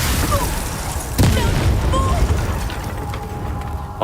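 A Confringo blast spell goes off in the Hogwarts Legacy video game, a single sudden booming burst that lands about a second in and then rolls into a sustained rumbling wash under faint game music and ambience.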